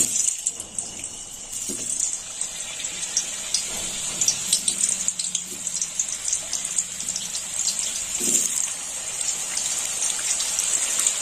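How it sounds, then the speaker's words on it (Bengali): Cut potatoes dropped into hot oil for muri ghonto set off a steady, close sizzling hiss with crackling bursts throughout, no one talking. "এবার আলুগুলো তেলের মধ্যে দিয়ে দেবো। দিয়ে দিলাম আলু।"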